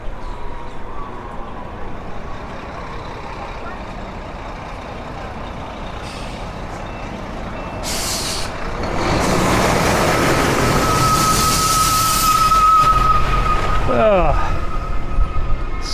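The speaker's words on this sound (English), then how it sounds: "Look at all the tour buses." Heavy vehicles such as tour buses rumble through city traffic, with a rising engine roar, a hiss like an air brake and a sustained tonal beep near the end, fairly close and loud. Speech is faint in the background.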